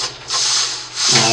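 Sanding on a 1/200 scale plastic model of the German battleship Bismarck, a steady close rubbing rasp in two sustained strokes with a brief easing between them.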